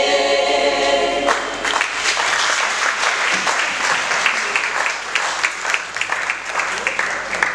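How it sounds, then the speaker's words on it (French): Wedding guests at a nuptial ceremony applauding, a dense sustained clapping from a crowd that starts as a held musical tone fades out and continues loudly to the end. "encore une fois, vous applaudissez."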